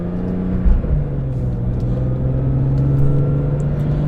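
A BMW M3 with an SMG gearbox cruising on a highway, its engine a steady interior drone with a low hum and road rumble, rising slightly as it pulls.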